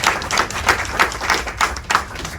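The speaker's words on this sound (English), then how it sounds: "Let's give Steve a round of applause." An audience at a National Press Club breakfast applauds. The clapping is close and fairly loud, with distinct, rhythmic surges of hand claps roughly three per second, and no one speaks.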